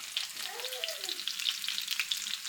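Okonomiyaki pancake frying in a pan just after being flipped, a soft, steady sizzle with crackling pops, faint and continuous throughout.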